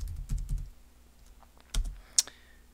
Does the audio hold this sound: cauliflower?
no